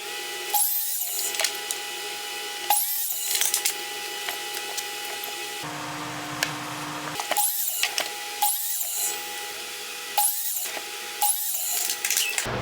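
A power tool cuts wooden feet for a chest, beveling each block at 15 degrees. Repeated loud bursts of cutting come close up, separated by quieter pauses with a steady whine, and nobody speaks.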